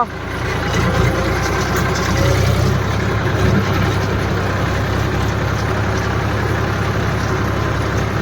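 A New Holland tractor engine runs nearby at a steady idle, producing a loud, continuous low rumble that holds throughout without clear revving.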